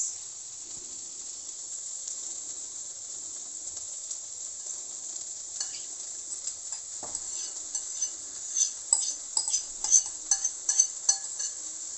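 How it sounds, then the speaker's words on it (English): Rice goes into colorful pulao vegetables in a hot pan, a steady high sizzle underneath soft scraping stirs that grow busier and more rhythmic toward the end. "So now at the last, we are going to add the rice"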